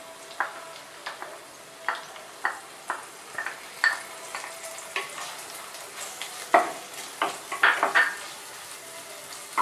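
Ginger garlic paste being sautéed with onions in a pan for a Kerala-style pork roast: soft frying sizzle under repeated sharp scrapes and clinks of a spoon stirring against the pan, irregular and close.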